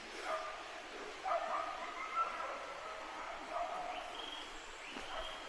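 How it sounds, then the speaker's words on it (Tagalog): A dog barks and yips off in the distance in a rural spot near Tanay, Rizal, several faint, scattered barks over steady outdoor ambience. "may aso dun"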